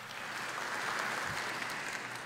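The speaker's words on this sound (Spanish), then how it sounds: "Fuertes palmas." A crowd in a parliamentary ceremony hall bursts into steady, sustained applause, a continuous wash of many hands clapping at moderate volume with no speech over it.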